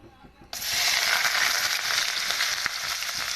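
Onion, green chili and garlic hit hot oil in a pan for bhindi, setting off a sudden loud, steady sizzle after a quiet start, close by with no voices.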